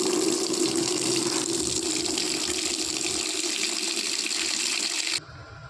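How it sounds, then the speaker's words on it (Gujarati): Tap water gushes steadily into a tub, a loud continuous splashing rush that runs for about five seconds before cutting off abruptly. "આપણે આ પાણીનું ટબ ભરી લઈશું।"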